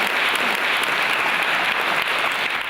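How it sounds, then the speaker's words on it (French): An audience claps at a French logistics trades event, with dense, even applause filling the whole stretch at steady loudness and no voices over it. "Allez, on les applaudit, merci beaucoup."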